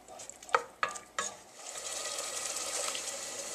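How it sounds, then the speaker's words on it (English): Bacon jam being stirred in a pan, a few sharp scraping clanks of the utensil against the pan early on, then a steady soft simmering sizzle continuing underneath, close and moderately quiet with no talking. "We're going to give it a good mix, stir it around."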